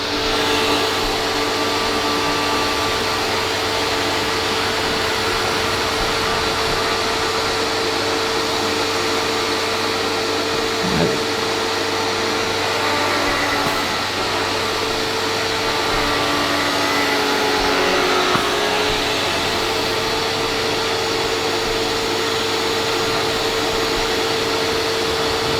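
A pressure washer drones loud and unbroken while it cleans the outside of a house, with a few faint knocks and clatters rising now and then above the constant noise.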